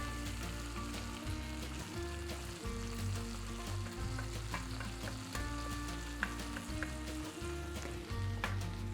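Garlic sizzles in a pan with a dense, continuous frying crackle, heard close and steady over a low, rhythmic background hum with occasional sharp pops.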